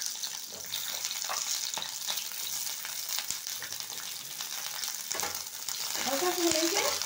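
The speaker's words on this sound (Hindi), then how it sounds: "ऑयल हमारा गर्म हो गया है, डालेंगे इसमें जो प्याज और ये जो शिमला मिर्च हमने काट के रखे हैं ना, इसे सॉटे करने के लिए इसे डाल देते हैं" Chopped onion and capsicum hitting hot oil and sautéing, a dense, continuous close sizzle that grows slightly louder toward the end, with a few soft clinks.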